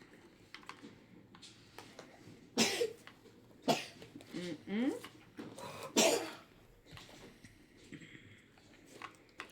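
A few sharp coughs stand out among quiet background talk and soft clicking, close to the listener and spaced a second or so apart.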